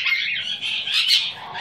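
Pet bird giving shrill, high calls and chirps close by, continuous over a short stretch with no talk.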